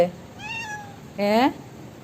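A pet cat lets out two close meows, the first a drawn-out falling cry and the second a louder, rising and more insistent one, with a quiet pause between them.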